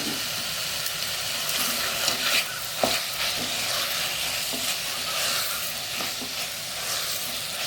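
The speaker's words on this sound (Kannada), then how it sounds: "ಹೀಗೆ ಚೆನ್ನಾಗಿ ಇದನ್ನು ಫ್ರೈ ಆಗಬೇಕಿದೆ, ಸೋಯಾ ಮತ್ತು ವೆಜಿಟೇಬಲ್ಸ್ಗಳು." Soya chunks and mixed vegetables fry with ghee and salt in a single pot for biryani, a continuous soft sizzle and hiss punctuated by occasional scrapes of a stirring spoon, steady and close.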